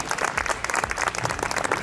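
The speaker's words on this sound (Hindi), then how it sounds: "जोरदार तालियां एक बार फिर से इनका स्वागत करेंगे।" Steady applause from a studio audience at an election debate show, dense clapping that fills the whole moment without pause.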